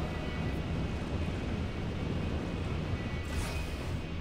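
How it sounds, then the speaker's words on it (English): A plane's engine in the Spider-Man video game, a loud steady broadband roar that holds throughout at close range with a brief brighter whoosh near the end. "Oh, that's Sable's plane."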